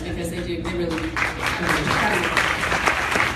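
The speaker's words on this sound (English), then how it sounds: "Also, a round of applause for our medical researchers" A crowd at a pop culture fan festival applauds for medical researchers, with clapping growing fuller over a few seconds while a person speaks over the start.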